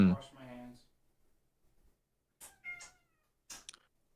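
A cat gives a few short, faint meows after a person speaks, separated by quiet pauses.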